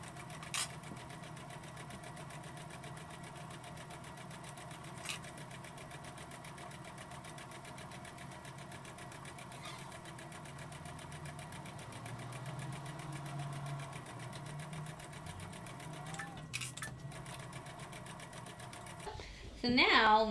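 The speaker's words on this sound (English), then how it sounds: "So let's go ahead and sew these together." A sewing machine stitches fabric pieces together for a Halloween bucket, its motor humming and clattering steadily and close by for about twenty seconds, with a few small clicks.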